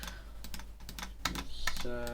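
Computer keyboard keys tapped in quick bursts while a Windows 7 update code is entered, with fairly close, crisp clicks and a brief tonal beep near the end.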